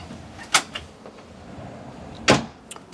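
A large mirrored door on a Morelo Palace 95 MB motorhome gives two short, crisp knocks close by, one near the start and one near the end, with faint rustling between them.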